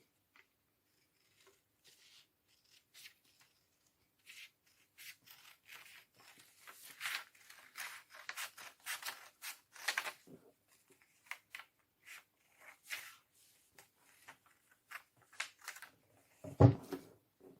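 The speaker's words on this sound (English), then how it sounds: "Just cut it along that line for the front." Scissors snip along a line through a paper sleeve pattern, a quiet irregular run of short cuts and rustles, ending with a louder crinkle of paper.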